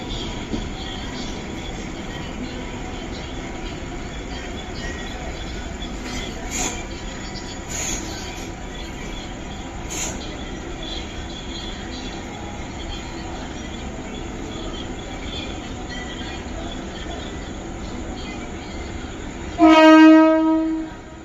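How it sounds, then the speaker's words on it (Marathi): A Mumbai slow local train rumbles steadily nearby at Mumbra station at night, with a constant background hum, then a loud horn blares near the end. "कल्याणला जाणारी एक धीमी लोकल थोड्याच वेळात प्लॅटफॉर्म क्रमांक 1 पर येत आहे।"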